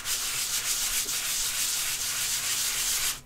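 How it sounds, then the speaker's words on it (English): Sanding a workpiece flat to level it on a build bench, a steady hissing rasp of abrasive rubbing back and forth continuously, close and fairly quiet, with no voices. "after I finish this, sanding this flat. Get it a little bit more leveled."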